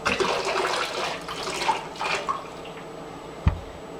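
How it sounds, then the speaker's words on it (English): Hot water poured from a container over a doll's head and hair, a splashing, trickling stream that tapers into drips, ending with a soft thud. "So then I'm just going to dump the rest of the hot water on her head."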